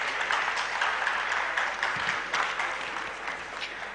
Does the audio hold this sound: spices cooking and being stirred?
no